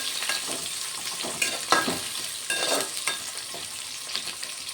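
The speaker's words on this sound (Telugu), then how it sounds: "ఇవి కొంచెం ఒక 2 నిమిషాలు ఫ్రై అవ్వాలి." Carrots and other vegetables sizzle steadily in a pan for a vegetable rice dish, with occasional stirring scrapes rising above the continuous frying hiss, close up and without speech.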